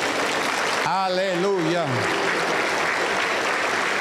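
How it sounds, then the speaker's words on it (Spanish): A church congregation applauds at a Pentecostal service, a dense continuous wash of clapping with a voice calling out briefly over it early on. "Aplauso para el Señor Jesús."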